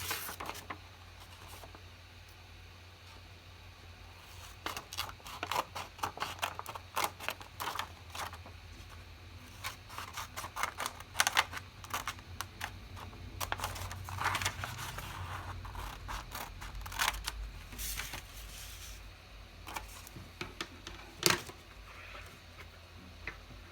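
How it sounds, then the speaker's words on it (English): Crisp, irregular snipping and rustling close by, like scissors cutting through paper, with short pauses between bursts of cuts. "So I'm going to use my scissors to cut that out."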